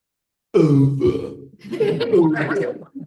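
A voice imitates burping during a storytelling lecture on the Bhagavad Gita, with two long, drawn-out belching sounds that are close and loud and fill most of the moment.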